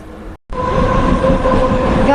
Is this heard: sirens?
no